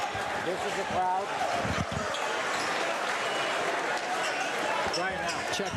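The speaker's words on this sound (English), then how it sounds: "This is the crowd." Crowd noise fills a high school gym during a boys' varsity basketball game, Arlington versus Lincoln-Sudbury, a steady indistinct murmur with scattered thumps of ball bounces and occasional voices nearby.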